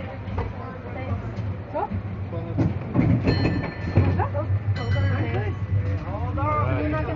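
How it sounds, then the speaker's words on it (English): A crowded San Francisco trolley rumbles and rattles along with a steady low drone and occasional metallic squeals, while people talk over it throughout. "this is the end of the trolley ride"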